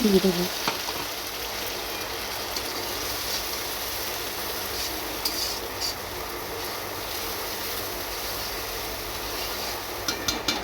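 Steady, crackling sizzle of onions and chicken spices frying in hot oil in a pan, close and continuous, with a brief clatter at the start.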